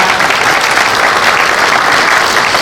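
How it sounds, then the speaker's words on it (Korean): Loud, dense, continuous applause from an audience at a hometown donation pledge ceremony in Andong, an unbroken wash of many hands clapping together. "여러분께서는 박수로 함께 해주시면 좋겠습니다."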